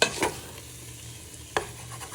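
Chicken pieces cooking in a pan for a spinach saag, a soft steady sizzle with two brief clattering stirs of a wooden spoon, close and without talk.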